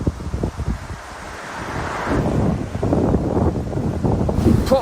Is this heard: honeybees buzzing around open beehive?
no